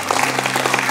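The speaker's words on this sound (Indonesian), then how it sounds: "berikan tepuk tangan." A church congregation breaks into loud, close applause, dense clapping throughout a short burst with a faint steady hum underneath.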